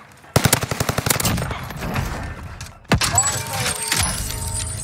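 Gun firing in the video game Warzone: a rapid automatic burst of about a dozen loud shots, a pause, then a sharp blast with ringing aftermath, up close.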